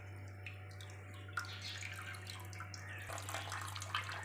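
Water trickles and drips as fresh milk curds (chenna) for rasgulla are drained and squeezed, a faint, uneven splashing over a steady low electrical hum, with a brief louder burst near the start of the flow.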